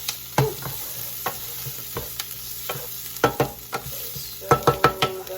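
Garlic frying in a pan and starting to burn, a light sizzle punctuated by repeated sharp spatula scrapes and taps against the pan, close by, with a quick cluster of knocks near the end.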